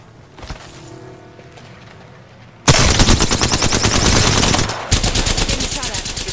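Loud, rapid automatic gunfire from Apex Legends, a ranked match, bursting in abruptly after a quieter stretch and hammering on in dense volleys close by, with a short break and then another burst.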